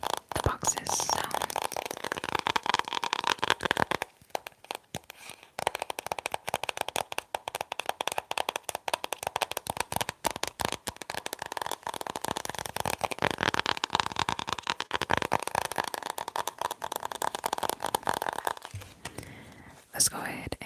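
Tarot cards are shuffled close up in a quiet room, giving rapid papery riffles and soft slaps in bursts. A faint whisper runs underneath, and there are brief pauses between rounds.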